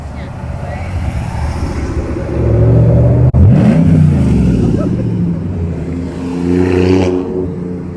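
Cars revving at the 2021 Tonnerre-area car and motorcycle meet in Villiers-les-Hauts, a throaty engine roar swelling and easing over eight seconds while people chat nearby.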